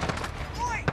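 In Call of Duty Modern Warfare, a FAB Defense modernized SKS rifle conversion fires a quick run of sharp shots with a louder crack near the end. A voice talks over the shots.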